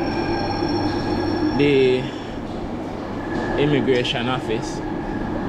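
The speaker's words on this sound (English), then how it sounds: "Look at the train go." A train passing on the London rail network, a steady rumbling roar with squealing wheel tones and rattling carriage sounds, heard close while someone talks over it.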